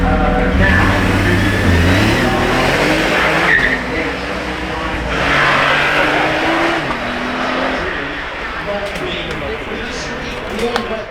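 Bentley Super Sports at the Goodwood Festival of Speed, its engine revving loudly with rising and falling gear-change pitch sweeps, close by over crowd noise, with people talking in the background.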